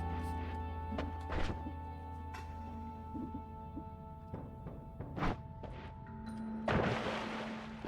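In Noita, an Odd Firebolt, a bouncy explosive spell bolt, sets off scattered thumps and crackling pops at irregular intervals against a steady droning game hum, with a louder crackling burst near the end.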